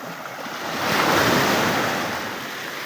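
Clean seashore surf with steady wind, a broad wash of waves swelling louder in the middle and easing off, close and continuous with no voices.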